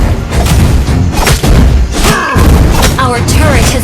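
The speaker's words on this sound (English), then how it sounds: "Our turret has been destroyed." A turret is destroyed in a Mobile Legends match: a loud, booming explosive crash amid dense game effects and announcer voice lines, steady and intense throughout.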